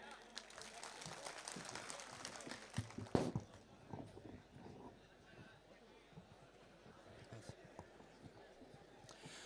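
An audience at a mushaira, an Urdu poetry gathering in Patiyali, breaks into a dense burst of clapping for the first few seconds, which then thins to scattered claps and low crowd noise.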